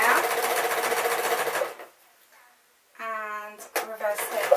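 A sewing machine runs a running stitch on a pink dress, whirring loudly for almost two seconds, falling silent, then starting again in short rhythmic bursts.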